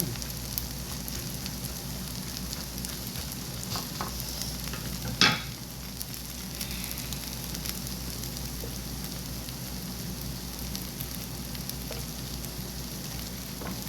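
Korean pancakes (jeon) of egg and flour batter frying in plenty of oil in a pan, a soft continuous sizzle and crackle with one brief scrape partway through.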